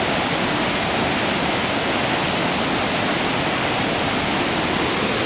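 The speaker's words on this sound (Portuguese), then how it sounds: "Então esse aqui é o Rio Sacramento, Cachoeira da Fumaça, rio que é um dos afluentes do Rio Doce." The flooded Sacramento River roars over the Cachoeira da Fumaça waterfall in Minas Gerais, a loud, constant broadband rush of water with no break or voices.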